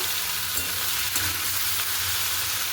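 Potatoes frying in a wok give off a dense, continuous hiss of hot oil, close and steady, with a faint stir or two and no voices.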